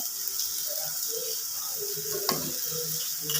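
Kashmiri chilli powder frying in a pan for prawn theeyal, a soft steady sizzle with faint stirring scrapes and a brief clink partway through, fairly quiet.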